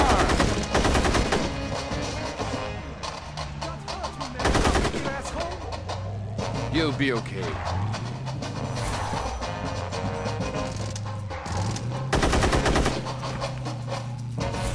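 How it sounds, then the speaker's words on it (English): Rapid bursts of gunfire in the video game Gangstar Rio crackle repeatedly over a low musical drone, with someone speaking briefly amid the shooting. "Oh, a real gunshot!"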